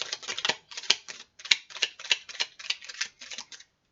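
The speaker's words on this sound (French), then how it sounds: "On va brasser une première fois" Oracle cards are shuffled close up in a rapid series of soft, papery riffling bursts, about a dozen quick flutters over a few seconds, quiet and without talk.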